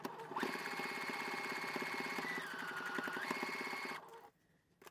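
Sewing machine running a steady straight stitch down a sweatshirt seam, a fast even needle rhythm at close range, continuous and loud for about four seconds before stopping.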